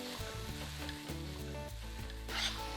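Ground lamb browning in a pan makes a soft, steady sizzle, fairly quiet and continuous for a few seconds, with no talking.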